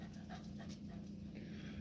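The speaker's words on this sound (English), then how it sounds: "There's my dog." A dog panting steadily in a garage, fast rhythmic breaths close by over a constant low hum, with no talking.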